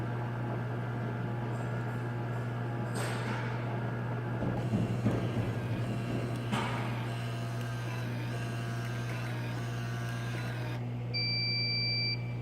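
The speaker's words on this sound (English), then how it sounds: "The beep lets you know that it is now safe to open the chamber." A Barnstead sterilizer hums steadily with some clattering, then a high electronic beep signalling the cycle is complete sounds continuously for the last second or so, clear and close.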